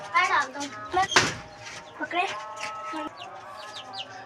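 A chick clucking and cheeping as it is caught, a few sharp close calls mixed with people talking and some knocking about a cage.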